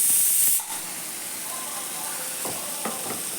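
Vegetables in a pan start with a loud, brief spray and hiss, then settle into a soft, steady sizzle with faint stirring clicks and scrapes.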